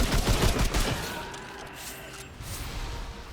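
Loud burst of rapid gunfire from a fire-ammo mod in Remnant 2, a dense volley up front that thins into rumbling echoes and a softer second flurry near the end.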